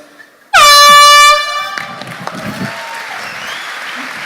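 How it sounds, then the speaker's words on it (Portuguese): A loud blast from an air horn opens the sound at a church event and cuts off after about a second, giving way to a scattered, fading crowd applause for a troupe, with some voices in the room. "Uma salva de palmas para a trupe."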